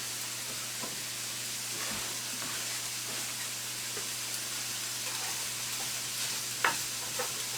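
Chopped onion fries alongside lean beef with a little olive oil in a pan for a Tex-Mex casserole, a soft, even sizzle with occasional faint clinks and scrapes of stirring.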